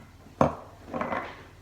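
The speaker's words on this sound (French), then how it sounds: "Vous mélangez de nouveau." A mixture is stirred in a bowl, a sharp clink of utensil against the bowl followed by a brief soft scraping swirl, close and fairly quiet.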